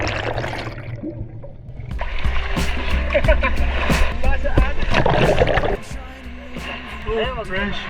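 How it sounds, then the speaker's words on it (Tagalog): Rough open-sea waves churn and splash close by, with sloshing surges and a low roar, while people talk loudly over it. "Sa sobrang lakas ng alon na hinahampas ako pa orong."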